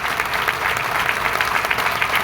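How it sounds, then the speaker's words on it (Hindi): Sustained audience applause at a company marketing seminar, a dense steady wash of many hands clapping throughout, fairly loud and even with no talk over it. "जोरदार जरा तालियां बजा दीजिए।"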